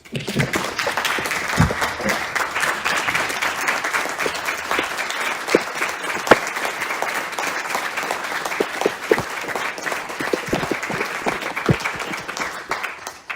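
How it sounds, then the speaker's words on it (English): A room full of people at a university board meeting claps in a continuous round of applause, dense and loud with sharp individual claps standing out, lasting the whole stretch. "I'd like to give you all a round of applause"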